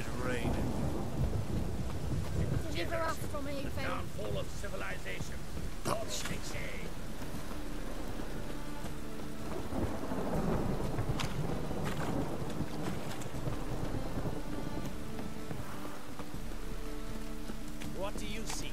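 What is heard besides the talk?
magically conjured rain and thunder in the video game The Witcher 3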